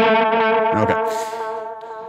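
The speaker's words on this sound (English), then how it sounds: "what we're doing is we're feeding a delay into distortion" An electric guitar run through a Line 6 Helix transistor tape delay feeding a distortion, a loud, sustained overdriven chord with a struck note midway and echoing repeats trailing off.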